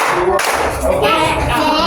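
Children clap out a short classroom clap pattern, a quick cluster of close, loud hand claps mixed with voices and room noise, lasting under two seconds.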